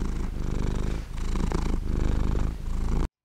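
A voice imitates a cat purring, a steady low rattling purr with rhythmic breaths, close and continuous before stopping suddenly.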